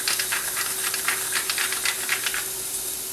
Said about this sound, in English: Let that steam till we're ready to plate.